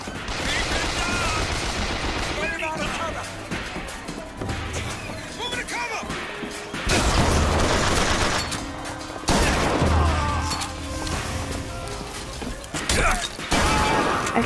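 Loud gunfire rattles in continuous bursts in Bioshock Infinite on PS4, with mechanical clanks and impacts mixed in and brief lulls between volleys.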